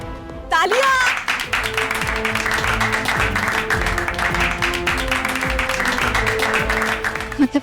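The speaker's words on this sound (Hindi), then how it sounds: "तालियां!" Applause and clapping from a crowd at a ribbon-cutting inauguration, a steady dense patter lasting several seconds with music and voices underneath.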